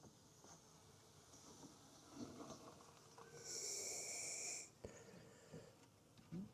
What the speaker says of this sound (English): There's some bees on the top there.